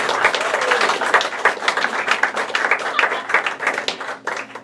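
Audience at a stand-up comedy show clapping throughout, a steady, moderately loud patter of many hands at fairly close range with no voices over it.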